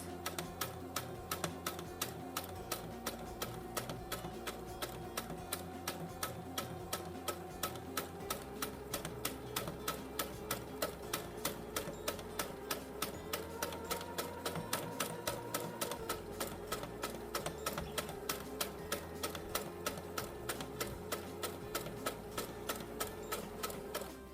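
A sewing machine stitches fabric for a sun-protective hat, running in a long steady rapid rhythm of needle strokes, close and fairly quiet, with no talking.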